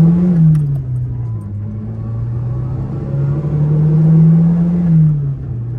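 A 1996 Peugeot 106 Rallye with its original engine, heard from inside the cabin, hums loudly as the revs sag and then climb steadily in a smooth, close, unbroken drone.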